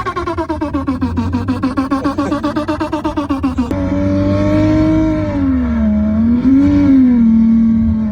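Car engine revving sound simulated by a plug-in OBD port device and phone app, played through the car's own speakers: rapid pulsing revs for a few seconds, then a smooth sustained engine tone rising and falling, loud and close.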